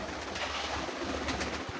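Pigeons coo softly in low, rolling murmurs behind a steady hiss of background noise, with no voices, the calls faint and continuous through the short stretch.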